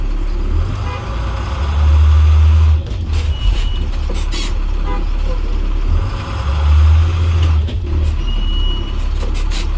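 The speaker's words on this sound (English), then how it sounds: "you want to get up to 5 miles an hour and then apply your service brake 2 times" A 2008 IC CE 300 school bus with air brakes rolls slowly during a service brake test, its engine rumbling low and steady with two heavier surges of braking noise, while a voice talks over it.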